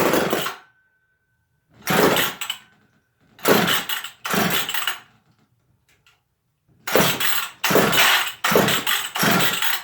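A McCulloch 1010 Automatic chainsaw with carburetor trouble is pull-started repeatedly: a run of separate loud, close rasping cord-pull bursts, each about half a second long, separated by silence, with the engine never catching.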